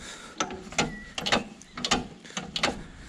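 The gear selection lever on a 38-year-old Deutscher 280 ride-on mower is worked back and forth, giving a series of close metallic clicks and ratcheting clunks in irregular pairs.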